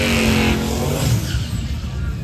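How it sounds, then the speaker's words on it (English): A re-engined Camaro drag racing, its engine roaring hard at launch, then fading as the car pulls away, leaving a rumbling crowd and track ambience. "The freshly re-engined Camaro advances on."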